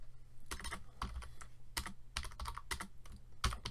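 Quick bursts of keystrokes clatter on a computer keyboard while port bits are entered as binary values, with short pauses between the clusters of clicks and a low steady hum underneath.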